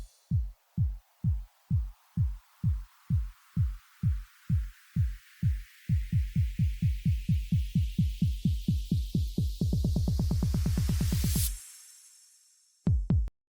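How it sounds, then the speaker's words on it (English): A kick-drum riser for a dance/house track: repeated kicks accelerate steadily from a slow pulse to a dense roll while a filter sweeps upward, ending in a bright swell, a short gap, then a final hit. No talking. "it's just kicks getting faster and faster as they go along"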